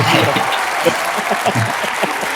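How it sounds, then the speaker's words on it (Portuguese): Steady applause from an audience fills the clip, with a voice speaking over the clapping. "Salva de palmas"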